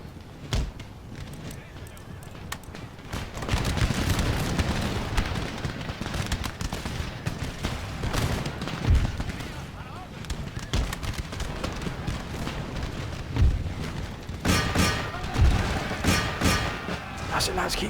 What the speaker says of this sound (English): That's it, lads, keep firing.